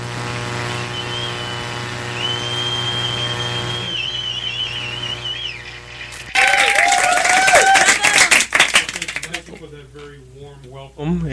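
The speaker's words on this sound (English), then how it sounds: "we want to give you a big round of applause" Steady electronic hum and tones give way to a burst of clapping applause that fades out, with a voice starting at the end.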